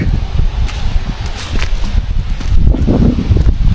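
Strong wind at a lake buffets the microphone in heavy, uneven low rumbles and gusts, close and loud, with light rustling over it and no clear talk.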